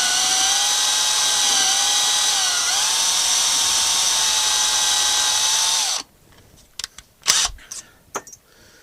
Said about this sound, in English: if you're using these kind of bog standard drill bits, be careful because they will tend to try and drag through